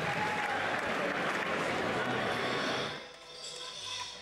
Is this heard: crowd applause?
yes